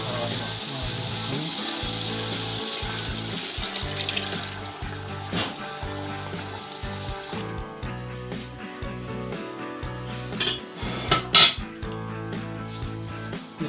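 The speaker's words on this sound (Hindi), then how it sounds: "अब हम इसमें ऐड करने लगे हैं यखनी।" Yakhni broth pours steadily into a pot of beef pulao, a continuous splashing trickle with faint sizzling, followed by clinks of a utensil against the pot, close and fairly loud.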